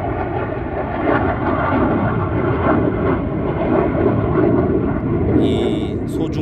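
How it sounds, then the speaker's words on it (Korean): A fixed-wing airplane passes overhead during outdoor landscaping and tree-planting work with an excavator, a steady, loud, broad engine drone filling the whole stretch, with a brief sharper noise near the end. "이 소중한 순간에 지금 비행기가 지나가고 있습니다."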